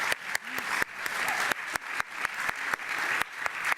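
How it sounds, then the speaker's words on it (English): An audience at a school district recognition event applauds in a steady, full round of clapping, with a few sharp, louder claps standing out near the front. "So let's give that another round of applause."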